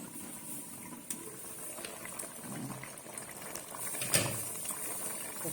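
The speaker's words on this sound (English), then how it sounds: "So I'll cover it and allow it to cook before adding my crayfish" Covered pot of beniseed sesame soup boiling steadily on the stove, a continuous bubbling simmer with lid rattle and occasional louder pops, close and alone.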